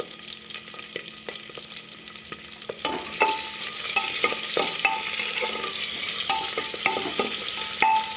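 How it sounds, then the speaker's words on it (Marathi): Cumin, bay leaf and onion frying in oil for paneer pulao, a close, steady sizzle that swells louder partway through, punctuated by scraping stirs and spoon taps, with no talk. "कांदा चांगला लालसर मोबडेपर्यंत भाजून घ्यायचा"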